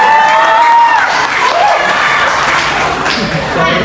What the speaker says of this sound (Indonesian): Tepuk tangan dulu untuk dosen kita tercinta.